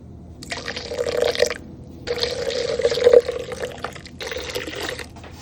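Water pours into a bowl in three short bursts, splashing and filling up close, with brief pauses between the pours.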